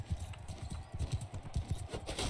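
Horse hooves clip-clop in quick, steady rhythm in the Mount and Blade II Bannerlord battle game, a close, moderately loud gallop carrying on under light background game noise.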